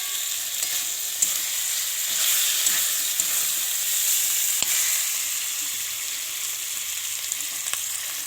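A vegetable curry fries in a hot pan with a steady broadband sizzle and hiss, staying fairly even throughout with a few small crackles and pops, and no voices.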